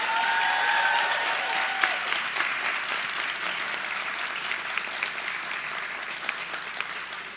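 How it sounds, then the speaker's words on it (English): Audience applause for a team of interior designers at a virtual showhouse presentation during High Point Market, sustained clapping from a crowd filling the whole stretch at steady, fairly loud level with no talking. "Can we have a special round of applause for Devin Sigmund"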